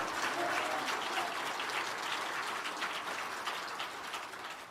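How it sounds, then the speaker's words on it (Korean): A church congregation gives a steady round of applause, a dense rain-like patter of many hands that holds evenly and fades slightly at the end. "우리 힘차게 전력대 한 번 더 영광의 박수 할렐루야."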